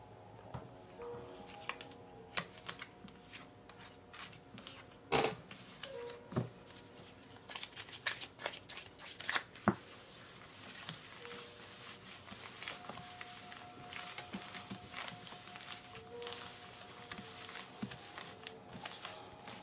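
Lenormand cards are shuffled by hand for a grand tableau reading, a soft steady run of papery riffles and flicks with a few sharper snaps, close and quiet.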